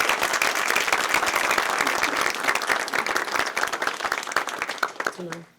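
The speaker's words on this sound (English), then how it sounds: "one more round of applause for all of our students." Audience applause for students at an Avon Board of Education meeting, dense steady clapping from a crowd lasting about five seconds before tapering off, with a brief voice at the very end.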